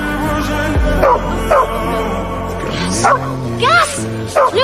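A small dog barks and yips urgently in a battlefield gas-warning scene, several sharp barks spaced through the passage with a whimpering edge, close and loud over a low background drone.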